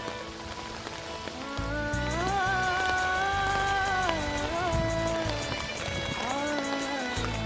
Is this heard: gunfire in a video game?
no